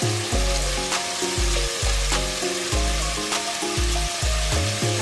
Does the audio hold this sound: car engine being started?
no